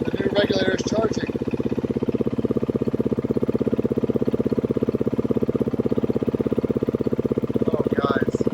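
A Beta 390 dirt bike engine, freshly rebuilt with a new regulator, idles steadily with an even, rapid thumping pulse close by, while someone speaks briefly at the start and end.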